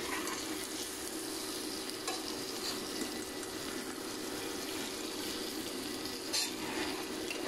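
Eggs are gently stirred into egg biryani masala in a pan, a continuous dense sizzle with soft, occasional scraping of the spoon, close and even throughout.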